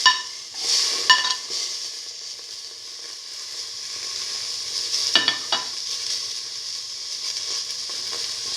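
Tomato paste is stirred into beef and eggplant frying in a pan, giving a soft continuous sizzle with a few scraping clinks of the utensil against the pan, close and fairly quiet.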